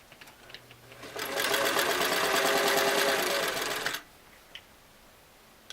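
A restored Singer Model 337 sewing machine runs a straight seam through layered fabric, a fast, even mechanical whir lasting about three seconds, loud and close, then stopping to near silence with a few small clicks.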